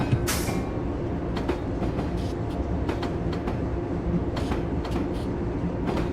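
A New Haven Railroad EMD GP9 locomotive runs in a train simulator game, a steady loud rumble with rhythmic clicking of wheels over rail joints and occasional sharper clacks throughout.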